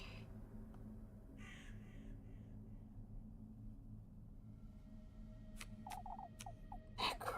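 A crow in a video game caws several times in quick succession near the end, sharp and fairly close over a low, steady ambient rumble, after a quiet stretch with faint scattered sounds.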